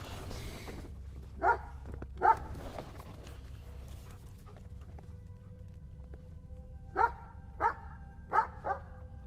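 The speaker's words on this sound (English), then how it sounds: "dog suddenly begins barking at something unseen in the distance" A dog barking outdoors at a campsite, two barks and then a later burst of four, somewhat distant against a low background rumble.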